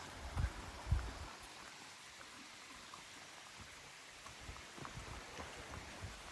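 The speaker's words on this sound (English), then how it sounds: "Getting ready to head over stream now," A shallow creek on the Appalachian Trail in July flows with a steady, soft broadband rush, with a couple of close thumps near the start and no talk.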